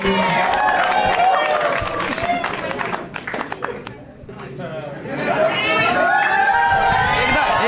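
An audience at a Marathi stand-up comedy show claps loudly, a dense wash of applause and cheering over voices and crowd chatter that dips briefly mid-way before swelling again.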